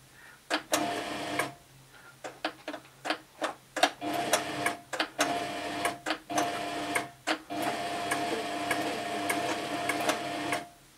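Toyota Oekaki sewing machine stitching, rapid mechanical ticking in short irregular runs with brief pauses between, close and clear with no talk.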